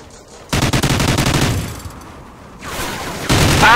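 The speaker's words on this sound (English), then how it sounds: "Yeah, I'm just using my minigun now." Minigun fire in the video game Call of Duty: Ghosts, Safeguard mode: long rapid-fire bursts of gunfire, loud and close, broken by a short pause and then resuming with heavier shots.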